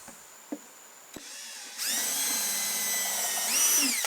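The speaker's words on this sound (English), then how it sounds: "Now we're going to countersink the holes." A power drill countersinks screw holes in plywood so drywall screw heads sit flush, a couple of faint clicks first, then a loud sustained whirring grind that rises toward the end.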